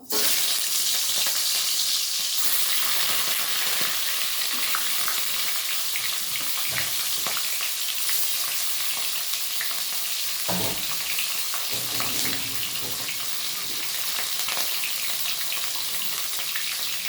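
Fish heads coated in salt and turmeric fry in a pan, giving a loud, steady sizzle and crackle from start to finish. Now and then there is a soft scrape of stirring, and no one talks.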